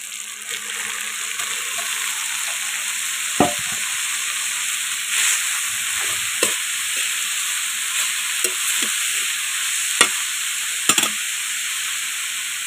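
Leafy greens fry and sizzle in a hot pan, a steady bright hiss running throughout, broken by several sharp clicks and scrapes of stirring at irregular moments.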